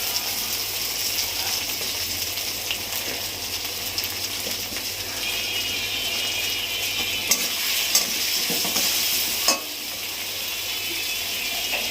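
Dried red chillies frying in a pan for an aar fish curry: a steady, loud, bright sizzle throughout, with a few sharp pops and clicks near the end.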